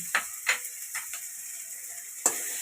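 Garlic dropped into a pan with salmon gives brief crackling bursts of sizzle with a few sharp clicks between, spaced and close, over quiet background without talk.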